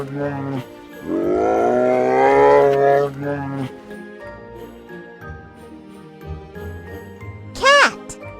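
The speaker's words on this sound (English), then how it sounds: "Bear." A bear roaring in a playful animal-sounds phone call, as a single long, growly rumble over a soft background tune, with a brief chime afterward.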